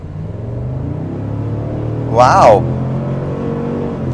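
A 2024 Cadillac Escalade ESV's 6.2-litre engine rumbles steadily inside the cabin, then swells in a brief rising rev before settling back to a low drone, with a voice reacting in between.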